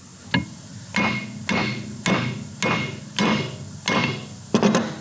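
Eight sharp hammer blows strike a steel wedge to true a flathead motorcycle engine crankshaft, at an even, steady rhythm, each ringing briefly before the next, loud and close.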